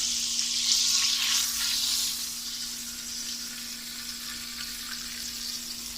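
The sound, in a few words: spices tempering sizzling in hot oil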